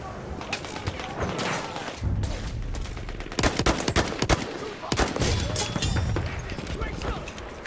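Gunfire in the Battlefield 1 multiplayer video game, with repeated sharp shots and bursts scattered through a busy battle soundscape, loud and fairly close, under occasional talk.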